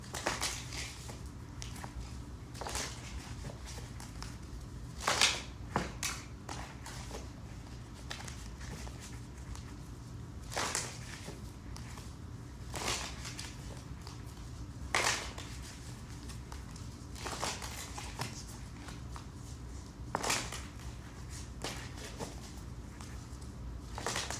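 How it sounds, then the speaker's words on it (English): Tarot cards are shuffled by hand at close range, giving soft, repeated riffling and patting bursts every few seconds over a quiet room background. "let's keep shuffling"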